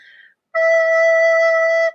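A recorder sounds a clean, steady E, one sustained pure tone held for over a second, close and loud, after a brief faint earlier tone.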